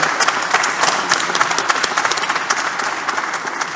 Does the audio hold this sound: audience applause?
yes